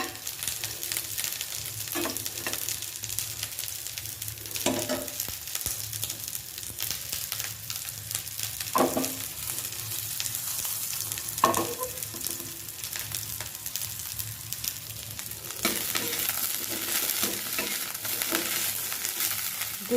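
Onion and five-spice frying in a pan for a fish fry, a continuous moderate sizzle with occasional spatula scrapes and stirs, close by and without speech.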